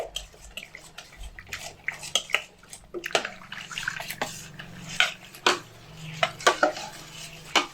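A ladle stirs rice flour into water in a metal pot for kosta pora pitha, giving irregular scraping clinks and wet sloshing, close and fairly loud, with no talking.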